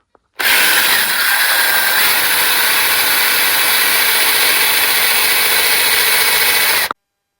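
A tap cutting a thread on a sports car build, driven by a quarter-drive socket, gives a steady, loud, continuous broadband grinding whir that runs unbroken for about six and a half seconds, starting and stopping abruptly.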